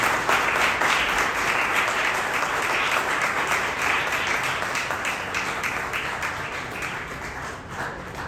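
A Presbyterian church congregation at a Mother's Day service gives loud, sustained applause, a dense continuous wash of many hands clapping that stays steady throughout and fades slightly toward the end.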